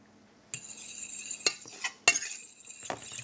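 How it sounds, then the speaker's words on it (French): Cooked courgettes are mashed with a fork in a pan, giving soft squelching and scraping with sharp metallic clinks of the fork against the pan, close and fairly quiet. "on va écraser avec une fourchette les courgettes"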